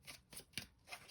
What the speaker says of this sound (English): I'll give this 2 more shuffles.